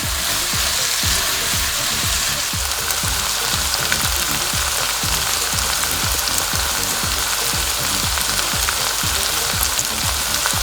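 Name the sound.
onion frying in a pan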